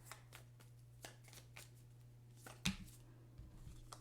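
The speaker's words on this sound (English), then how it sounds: "I'll start shuffling now" Soft riffling and shuffling of oracle cards, brief flurries with a sharper snap near the middle, over a faint low hum.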